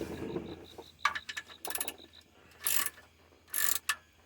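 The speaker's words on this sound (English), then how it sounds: "We're actually using a torque wrench." Torque wrench ratcheting during a transmission service on a 2006 Trailblazer parked on ramps, heard as several separate bursts of quick mechanical clicks, fairly close, with a faint steady tone running underneath.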